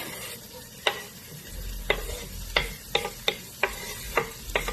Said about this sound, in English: We're going to saute these vegetables down probably about 5 to 7 minutes